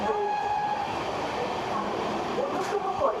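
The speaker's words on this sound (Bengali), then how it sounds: "বন্ধুরা আমাদের ট্রেন এখন ক্রস করছে ফ্ল্যাট 110 স্পিডে টিটাগড়।" Gangasagar Express running with LHB coaches at a flat 110 km/h through Titagarh, heard as a loud, steady rail roar and rumble that continues without a break.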